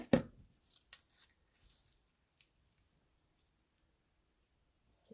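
Scissors trimming the edges of patterned paper for a card, a few sharp close snips early on that trail off into near silence.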